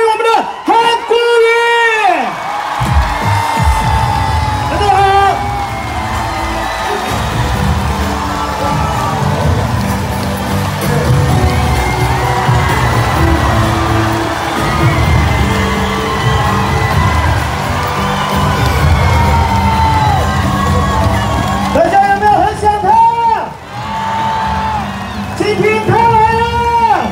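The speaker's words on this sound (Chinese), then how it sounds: "我们用最热情的掌声以及欢呼声" Crowd at an outdoor book-launch event in Daan Forest Park, Taipei, cheering, whooping and applauding loudly and steadily for a welcomed speaker, with an amplified voice speaking over the noise at the start and again near the end.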